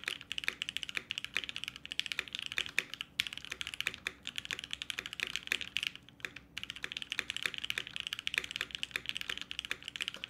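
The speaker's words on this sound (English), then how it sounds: "Very deep sounding keyboard." Continuous typing on a Vero mechanical keyboard with a polycarbonate plate, deep-toned keystrokes clacking in a fast, steady stream, fairly quiet and close with no talk.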